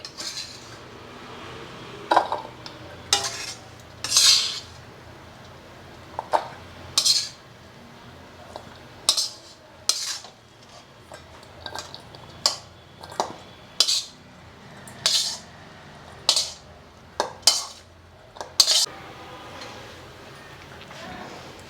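A spoon scrapes and clinks against a metal bowl in repeated short strokes, steady and close, with quiet background noise between scrapes, as cooked amaranth-leaf fry is transferred into the bowl.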